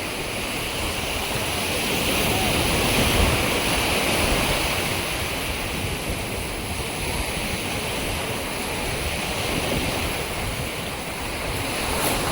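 Ocean surf rolls steadily onto Miramar Beach in Goa, a continuous loud wash of breaking waves with wind buffeting the microphone and no talking.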